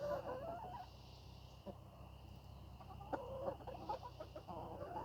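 Backyard pet chickens clucking and murmuring close by on a farm while scratching and pecking in the dirt, with soft, steady clucks running through the whole stretch.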